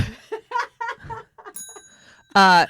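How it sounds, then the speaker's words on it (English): A short ringing bell tone is played as a sound effect after a few spoken words, and it fades into a sudden loud burst of laughter. "I'll do a half a bell for her."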